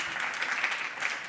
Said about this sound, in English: Maybe that's a little round of applause that's needed for that.